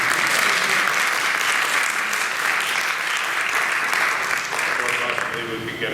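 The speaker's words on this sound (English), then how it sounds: "If you'd like to applaud again, she won't mind." An audience at a school board meeting gives sustained applause, steady and fairly loud throughout, with some voices faintly audible beneath the clapping.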